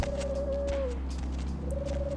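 Pigeon cooing in the video game Vampire: The Masquerade – Bloodlines, a soft drawn-out coo followed by a second shorter one over a steady low ambient hum.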